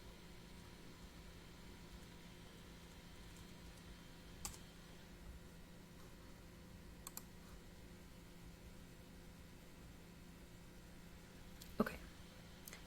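Soft, sparse clicks of someone typing login credentials on a computer keyboard, faint and irregular over a steady low hum, with one louder tap near the end.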